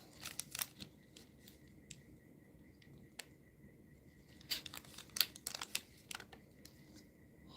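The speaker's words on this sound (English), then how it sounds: "Can I cut the extras off?" Faint scissor snips cutting excess polymer clay, with small sharp clicks and crinkly scrapes scattered unevenly at close range in a quiet room.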